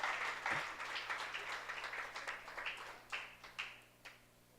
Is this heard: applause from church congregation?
yes